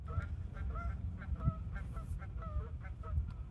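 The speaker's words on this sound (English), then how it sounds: "Don't those geese know we're golfing?" Geese honking on a golf course, a flock calling in repeated rough nasal honks at irregular intervals, moderately near, over low outdoor rumble and no talk.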